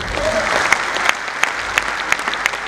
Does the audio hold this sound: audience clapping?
yes